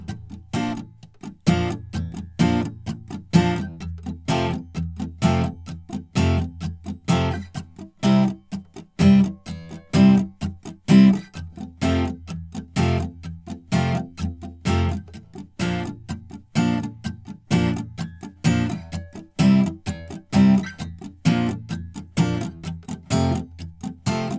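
Strummed guitar chords in a steady, repeating rhythm, each strum ringing briefly before the next, moderately loud and close.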